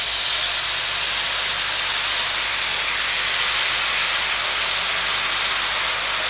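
Hot jaggery syrup poured into a roasted mixture in a pan sizzles with a steady, loud, bright hiss that stays constant throughout with no talking.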